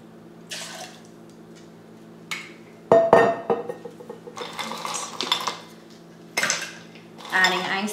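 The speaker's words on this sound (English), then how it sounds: "Adding ice to our mixing glass." Ice cubes clatter into a cocktail mixing glass while making a bourbon Manhattan, a run of sharp, bright clinks and rattles in several bursts, close and fairly loud, with no talking.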